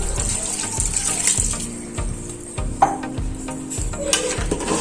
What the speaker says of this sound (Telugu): ఇప్పుడు దీనిలోకి 1 గ్లాస్ వరకు వాటర్ యాడ్ చేయాలి.